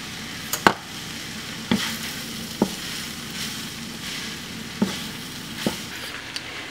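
A corn mixture is stirred in a pan over heat, giving a steady close sizzle of frying broken by several sharp scrapes and clanks of the utensil at irregular intervals, with no voices.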